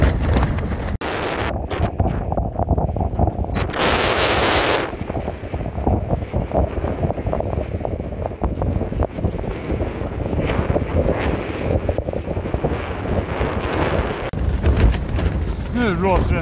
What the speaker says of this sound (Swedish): Nu blåser det nog kopiöst.